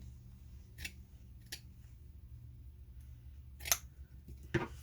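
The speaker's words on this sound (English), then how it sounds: "so once again I'm going to cut any bulkiness off." Scissors snipping off bulky quilting fabric during slow hand stitching, a few quiet, separate crisp cuts over a faint low hum.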